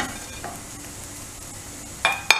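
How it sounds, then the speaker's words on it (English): Garlic cloves roasting with dark-browned whole spices in a pan for mutton curry, a soft steady sizzle with light stirring, then two sharp clinks of a utensil against the pan near the end. "We have to roast this garlic cloves with this spices for about 1 minute."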